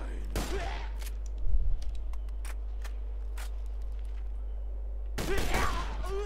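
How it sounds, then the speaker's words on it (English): Triple-shot sniper rifle firing in the video game Borderlands 2, sharp gunfire bursts at the start and again near the end over a steady low game drone, with faint clicks between. "this sniper rifle's triple shot"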